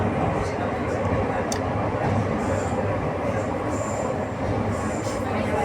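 A passing train in Spain gives a steady loud rumble and rush of rail noise, heard from aboard another moving train, with faint squeals on top.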